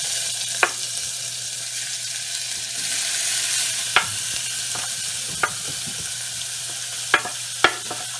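Onions and garlic frying in vegetable oil in a pan on the stove, a steady hissing sizzle punctuated by a handful of sharp spatula clicks against the pan, close up and with no one talking.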